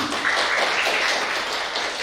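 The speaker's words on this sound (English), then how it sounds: "applause before that to Bapak Idam Badrul Zaman" Audience applause for a speaker at a student workshop, steady dense clapping throughout the short moment, close and fairly loud, with no voices over it.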